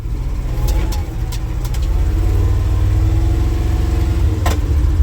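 A Flatfender Jeep engine runs steadily just after a cold start, a loud, rough low rumble that holds for about five seconds, with a few faint clicks above it and no talking.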